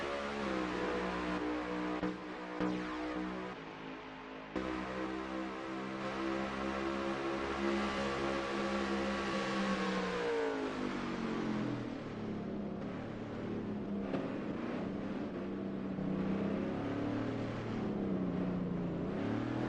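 Race car engines roar and rev together in the Ruthless Pro Series All-Star Race at the Homestead Roval in a racing video game: a dense, loud, continuous drone of several engines with rising and falling pitch sweeps and no talk.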